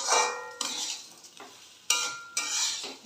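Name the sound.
stirring frying rice with salt and sugar in pan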